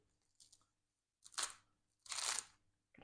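Crisp crackling crunches come in a few short bursts as a knife cuts through a crusty homemade sourdough loaf, with quiet pauses in between.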